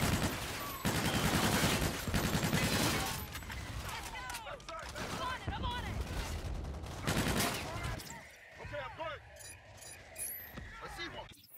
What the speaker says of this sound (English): 3-1 in position for gun run